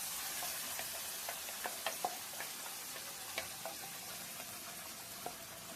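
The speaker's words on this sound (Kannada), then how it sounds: "ಹಸಿ ವಾಸನೆ ಹೋಗೋವರೆಗೂ ಇದು ಚೆನ್ನಾಗಿ ಫ್ರೈ ಮಾಡಿ." Fish curry masala frying in oil sizzles softly and steadily, with scattered sharp pops and spatters and light stirring throughout.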